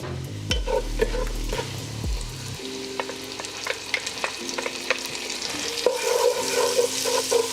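Garlic and red onion sautéing in a pan with a steady stirring scrape and soft sizzle, a low rumble at the start giving way to scattered clicks of a utensil against the pan.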